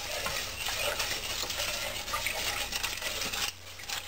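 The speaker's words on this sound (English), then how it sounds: "I have to stir it constantly until it begins to thicken." A spoon stirs sugar and water in a pot for lemon meringue pie filling, a continuous close scraping swish that stops abruptly near the end, with no talking.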